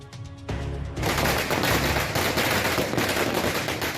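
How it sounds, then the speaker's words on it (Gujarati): Dense, continuous crackling bursts of firecrackers set off during a funeral procession with a band in Kumbharwada, Vadodara, starting after a brief tonal passage and building into a loud, sustained barrage of rapid pops. "બેન્ડ વાજા અને આતશબાજી સાથે અંતિમ યાત્રા"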